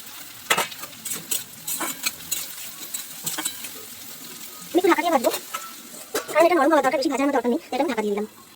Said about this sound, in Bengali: একটু নরম হওয়া পর্যন্ত ভাজবো এটা এবার আমি দিয়ে দেব ক্যাপসিকাম আর লঙ্কাটা